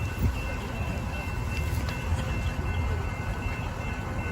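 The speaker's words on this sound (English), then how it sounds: "There's a train." Rumbling train passing in Texas with steady low roar and some metallic squeals, continuous throughout, fairly close.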